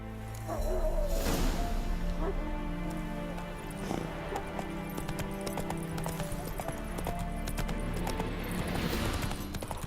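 Steady clip-clop of horse hooves while riding in The Witcher 3, a continuous even rhythm with an occasional whinny, mixed over game music and ambient sound, no speech.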